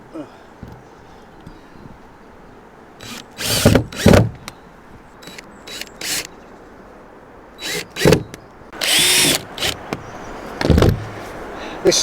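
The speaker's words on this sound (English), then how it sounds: "I can drill through from the inside" A power drill drives screws into the wooden supports of a cabin built from pallets. Several short, loud whirring bursts stand close over a low background hum.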